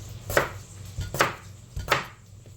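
Three evenly spaced, crisp chops of a knife slicing through cabbage on a cutting board, close and distinct with quiet gaps between strokes, and no talk.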